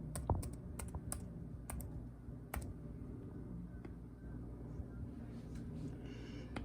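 Quiet keys clatter on a computer keyboard as a Wi-Fi password is entered, with bursts of clicks early on, then sparser taps over a faint room background.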